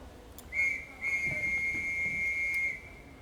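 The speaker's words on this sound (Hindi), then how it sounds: "तुमने सीटी सुनी क्या?" A train whistle sounds once as a single steady, shrill tone held for about two seconds, fairly loud and clear over a quiet background, with no voices.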